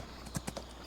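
Horse hooves clip-clop in Farming Simulator 25, a few soft, irregular steps close by and fairly quiet, with no talking over them.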